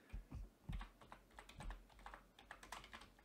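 Typing on a computer keyboard while working in Blender's Geometry Nodes, a quick irregular patter of close key clicks with a few heavier thumps, alone without speech.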